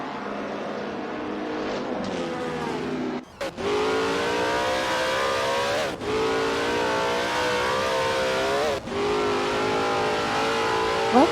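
1950s Formula 1 racing cars in an AI-driven racing video game at Bridgehampton, engines droning and revving continuously, with pitch climbing through gears and several brief dips at shifts, loud and steady with no talk.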